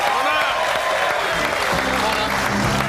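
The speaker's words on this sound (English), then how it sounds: "Round of applause for this great man." TV studio audience on a live Australian football panel show applauding a guest, a steady dense wash of clapping throughout, with music or other studio sound mixed in underneath.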